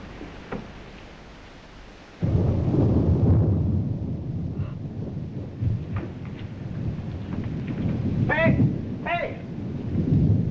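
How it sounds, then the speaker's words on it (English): A loud sudden thunderclap breaks out after a quiet stretch during a summer storm, then a sustained rumble rolls on with rain noise underneath, and brief faint voice-like sounds come through near the end. "Thunder."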